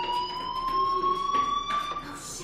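In the game Life Is Strange, a fire alarm sounds as a steady, high electronic tone that holds without a break. It is fairly loud, with faint background noise and no speech over it.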